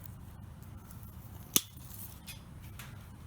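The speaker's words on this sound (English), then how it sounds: "get the branch cutters" Branch cutters snip through a Japanese maple branch being shaped as pre-bonsai, giving one sharp, close click-snap against a quiet outdoor background.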